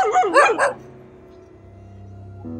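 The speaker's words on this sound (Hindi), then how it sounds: "ये कुत्ते हैं" A small dog barks several times in quick, loud yaps, then falls quiet, leaving a low steady hum outdoors at night.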